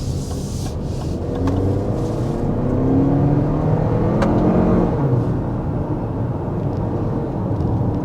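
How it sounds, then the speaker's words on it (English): A Lexus RX 350 engine under hard acceleration, a sustained rising revving drone that climbs in pitch and then settles, heard from inside the vehicle with steady road and wind roar beneath. "There's a quick punch of the accelerator with this RX 350"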